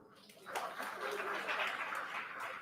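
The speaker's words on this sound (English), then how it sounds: "That deserves a clap." A room of people applauding at a live-streamed event, a soft even wash of clapping that swells and holds steadily, heard from some distance.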